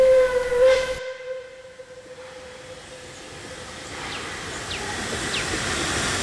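Puffing Billy steam train sounds a loud steady whistle for about a second, then steam hiss and rumble continue as the whistle cuts off.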